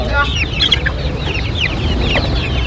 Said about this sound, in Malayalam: വൈറ്റ് ആണ് ഫാൻസി കോഴിയാണ്